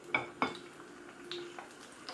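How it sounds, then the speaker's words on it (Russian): A plate is pulled from a stack of dishes in a kitchen, giving a few clinks and clatters of crockery up close, fairly quiet, with sparse knocks spread over a couple of seconds and no talking. "Вот такую вот тарелку достану уже."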